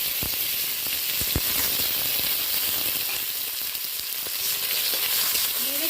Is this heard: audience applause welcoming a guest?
no